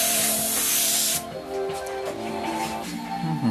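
An airbrush sprays paint onto hats and T-shirts with a loud, steady hiss for about a second, then stops. Quieter tonal workshop noise carries on afterward.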